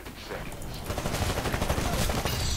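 Rapid pistol gunfire in the Titanfall shooter, a dense burst of sharp cracks with heavy low-end thump, close and loud throughout with no clear gaps.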